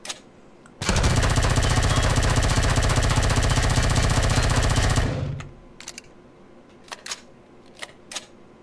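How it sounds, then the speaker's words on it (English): Sustained automatic gunfire blasts at a door in the survival video game Empyrion, a loud rapid continuous rattle lasting about four seconds, followed by a few scattered sharp clicks and pops. "I can't open the door, so I'm going to have to shoot it, and that's going to take a lot of bullets."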